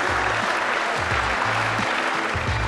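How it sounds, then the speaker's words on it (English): A crowd at a World Pool Masters pool match applauds steadily throughout, dense clapping with no voices rising above it. "gives Shane van Boening a round of applause"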